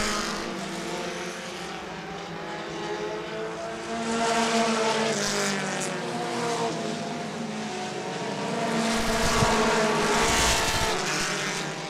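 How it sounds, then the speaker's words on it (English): Mini stock race cars roar around the oval at Angola Motorsport Speedway during a 20-lap feature, a dense continuous engine drone that swells and fades as the pack passes, loud and steady with no talk. "Fuzz about a one car length lead now over Moonen, who's closing quickly in the 72"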